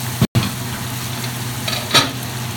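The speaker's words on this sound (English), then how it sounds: "It was just a matter of them frying up in the pan with the onions" Ham hocks sizzle and fry in a pan with onions for Thanksgiving dinner, a steady close hiss with a brief stir or clatter near the start and another burst just before the end.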